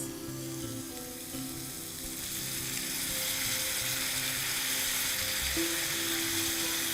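Soy sauce and Ajinomoto seasoning land in a hot pan during quick iftar cooking, setting off a steady, close sizzle that swells louder and stays continuous with no talking.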